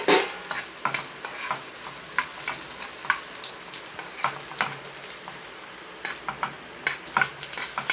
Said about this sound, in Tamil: இப்போ முந்திரி திராட்சை தாளித்து இதில் ஊற்ற போகிறோம் நெய்யில் போட்டு.